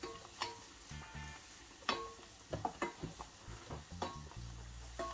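Finely chopped shallots sizzle in butter in a pan, a soft frying hiss under repeated sharp clinks and scrapes of a utensil stirring against the pan.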